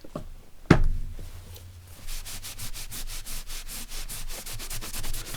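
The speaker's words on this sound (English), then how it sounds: "I've got quite a lot of glue stick on the front of this page, which I'm going to have to rub off." Dried glue stick rubbed off a journal page, starting with a sharp knock and then a steady, close-up, rhythmic scrubbing and rasping of paper, with no talking.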